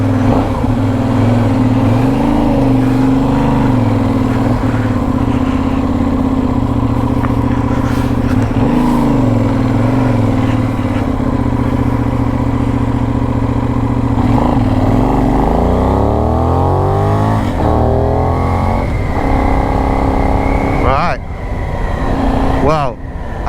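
Benelli 752S twin-cylinder motorcycle engine pulling away and riding, a loud steady punchy drone that rises in pitch as the bike accelerates through the gears, close and continuous throughout.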